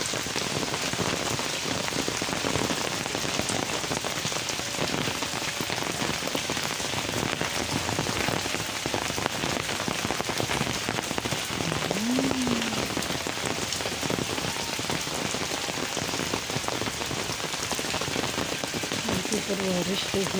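Heavy rain pours steadily on surfaces outdoors, a dense continuous hiss with scattered drop impacts throughout, loud and close, with no talking.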